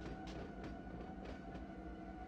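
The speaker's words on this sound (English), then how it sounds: "I'm in love with the train sounds." A freight train rumbles in the Run8 train simulator during yard operations at West Colton, a dense, continuous rolling roar with steady tonal hum and faint rhythmic clacks, heard alone.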